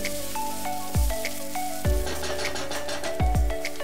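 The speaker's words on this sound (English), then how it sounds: "Add 2 onions chopped and fry this until the onion is nice and soft." Chopped onions frying in oil in a hot pan give a steady soft sizzle throughout, under louder background music with low thumping beats.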